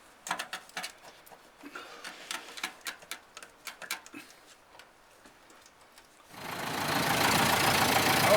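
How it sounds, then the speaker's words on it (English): A 60-year-old Ford Model A engine ticks and knocks in an uneven rhythm at first, then gives way to a loud, steady broadband roar for the last couple of seconds. "Okay, we're motoring. After 60 years, doesn't stop very good. Clutch isn't too good. The engine sounds good."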